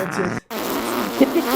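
A short fart sound amid a group of young men joking, two brief buzzing bursts separated by a moment of silence, heard under their overlapping talk.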